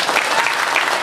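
Audience applause at a Hindi kavi sammelan poetry gathering, steady dense clapping filling the whole short moment with no pauses.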